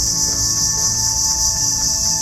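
A mangrove cicada calls inside a mangrove forest, a loud, continuous high-pitched buzzing drone that stays unbroken and dense throughout, close and dominant with no voices.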